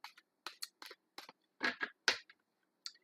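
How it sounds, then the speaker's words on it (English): Tarot cards are shuffled close by and quietly, as a loose, irregular run of short papery slaps and scrapes with small gaps of silence between them. "let's get this shuffle on the road here"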